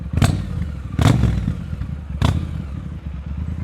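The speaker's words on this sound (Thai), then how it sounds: "เราเปลี่ยน ท่อ แล้ว เสียง มันเล้าใจขึ้นนะครับ" Motorcycle fitted with a replaced aftermarket exhaust pipe, engine running loud and close with three sharp revving bursts rising over a steady rumble.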